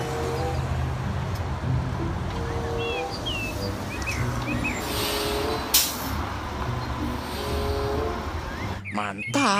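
A Transjakarta bus in Jakarta street traffic lets out a sharp air-brake hiss amid a steady engine and road roar. Chirping sounds are scattered through it, and there is a rattling burst at the very end.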